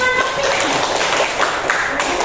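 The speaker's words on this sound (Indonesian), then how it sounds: "Ya, terima kasih tepuk tangan." Students in a classroom give a short burst of clapping after a group presentation, a close, fairly loud patter of hands with some voices mixed in.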